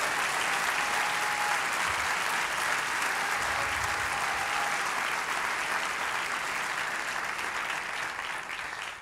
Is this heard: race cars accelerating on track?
no